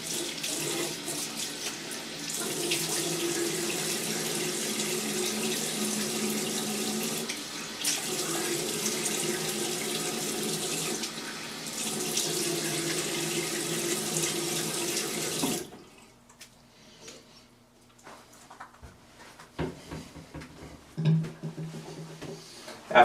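A tap runs steadily into a sink for about fifteen seconds while a shaved head is rinsed, the flow briefly interrupted twice, followed by quieter clinks and handling sounds after the water stops.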